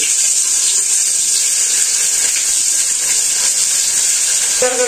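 Eggs frying with turmeric in a village kitchen, a steady loud sizzle and hiss that runs unbroken throughout with faint clinks near the end.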